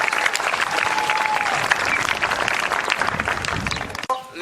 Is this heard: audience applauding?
yes